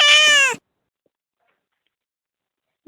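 A cat stuck head first in a toilet bowl gives one loud, clear meow at the start, followed by silence and a faint brief sound at the end.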